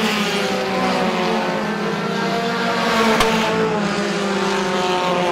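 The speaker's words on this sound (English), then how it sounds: "Now he's going to go to work on your leader, Jason Dick, in car 22X." Race cars roaring around Star Speedway during a Roadrunner feature race, a steady, loud, close engine drone with sustained revving and no voices over it.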